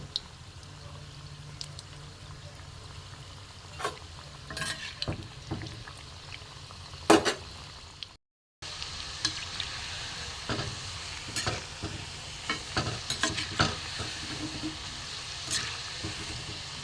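Ingredients for a homemade sweet fry gently over low heat in a pan, making a faint, steady sizzle. Light stirring scrapes come and go, and a brief silent break interrupts the sound partway through.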